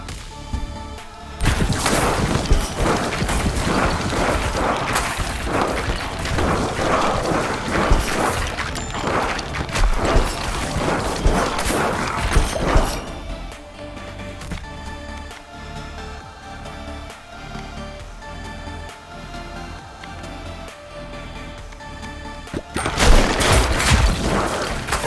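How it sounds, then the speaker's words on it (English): Rocket fireworks explode in the video game Ball X Pit, loud dense bursts of crackling blasts and booms that pour out for several seconds, pause to a quieter stretch, then return in a sharp volley at the end. "Explodes into 3 to 6 fireworks."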